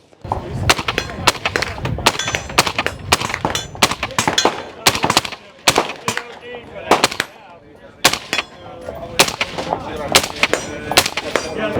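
A Beretta 1301 tactical shotgun test-fired on a range, giving loud, sharp single reports in a steady, fairly quick rhythm, a dozen or more shots spaced about half a second to a second apart.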